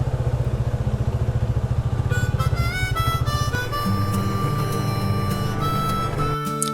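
A motorcycle rides along a narrow village road between green fields, its engine pulsing steadily and loud up close before settling into a smoother, sustained drone with a mix of tonal sounds layered on top.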